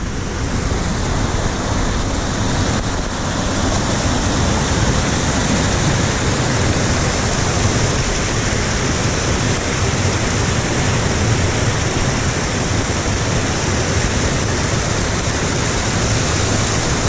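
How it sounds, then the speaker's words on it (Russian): Waterfalls in Benicalap park, Valencia: a steady, loud broadband rush of falling water that carries on unbroken and alone for the whole stretch, with no voices over it. "Идут и водопады."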